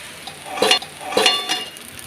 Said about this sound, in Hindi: भिंडी हो रही है फ्राई